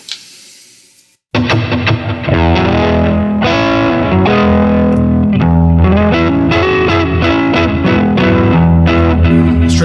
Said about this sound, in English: And let's turn on the delay.